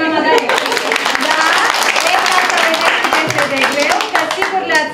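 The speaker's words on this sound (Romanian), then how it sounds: "hai să o aplaudăm pe mama Dana" A class of young children and parents claps for a girl's mother at a primary-school preparatory class show, brisk uneven hand claps going on steadily with children's voices and chatter mixed in.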